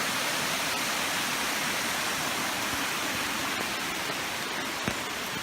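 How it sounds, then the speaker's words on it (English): A waterfall on a rainy hike in the Inner Hebrides of Scotland rushes in a dense, steady roar with no breaks, loud and constant, a few faint ticks of rain scattered through it. "There's another waterfall."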